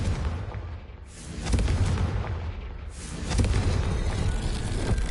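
A Confringo explosive spell cast in the Hogwarts Legacy video game bursts with two loud, rumbling booms about two seconds apart, each a broad blast that swells and lingers with a crackling tail.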